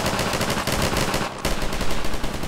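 Sustained video game gunfire, dense and loud, like automatic weapons firing nonstop, with a very short break partway through before the rattling bursts resume at full intensity.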